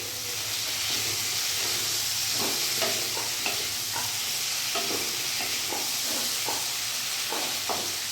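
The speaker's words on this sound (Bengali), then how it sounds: "এবার আমি ভালো করে নাড়াচাড়া করে গ্যাসের ফ্লেমটা বাড়িয়ে দিলাম" Rui fish curry with potatoes and spices simmers and sizzles in a pan while a spoon stirs it in repeated scraping strokes over a steady frying hiss.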